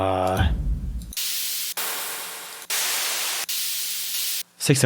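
Harsh bursts of an FL Studio noisy cymbal sound effect repeat back to back, each cutting off abruptly, loud and bright, after a brief tonal hit at the start.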